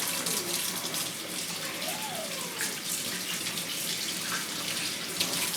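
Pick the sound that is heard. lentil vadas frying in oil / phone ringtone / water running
water running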